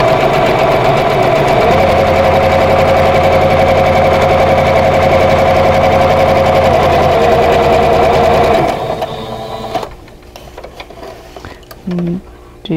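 A sewing machine stitches a vintage quilt block a quarter inch from a drawn line, running loud and steady for about nine seconds before stopping, leaving quiet handling noises.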